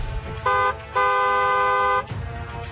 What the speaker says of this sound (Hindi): हॉर्न बजाना जरूरी है।